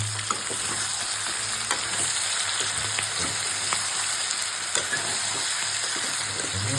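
Pork frying in a pan after salt is added, sizzling steadily and close, with soft intermittent scrapes and clicks of stirring running throughout; no one speaks.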